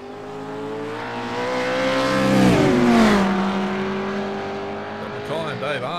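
GT3 race cars cross the line one after another during an ANZAC six-hour endurance race, their engine notes swelling loudly as they pass close by and then sliding down in pitch as they move away, with commentary running over the top.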